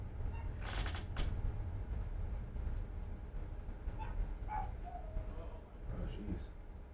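Dog barking inside a radio studio, a few short sharp barks heard faintly under and between people talking.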